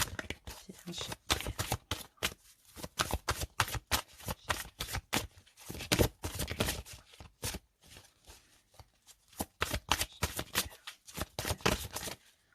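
Tarot cards are shuffled by hand in rapid riffling bursts and flicks, close and crisp, repeating in irregular clusters over several seconds with brief pauses between.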